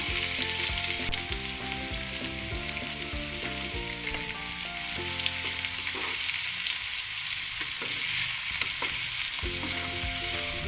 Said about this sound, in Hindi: प्याज भी हमारे हल्के से फ्राई हो चुके हैं